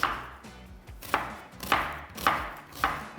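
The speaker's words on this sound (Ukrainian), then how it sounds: "Нарізаємо нашу цибулю напівкільцями" An onion is sliced into half rings with a knife on a cutting board, five or six sharp, evenly spaced chops close by in a quiet kitchen.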